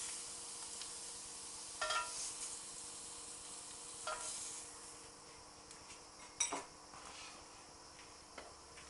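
Mushrooms sizzle on a griddle pan with a faint, steady hiss, broken by a few brief scraping and stirring clatters of a utensil against the pan.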